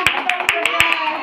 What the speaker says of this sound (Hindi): सब भाभी जी के लिए ताली बजाओ